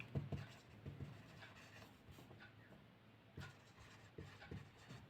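A pen writing trigonometry equations on paper, a steady close scratching with short rhythmic strokes and taps continuing throughout, no voice.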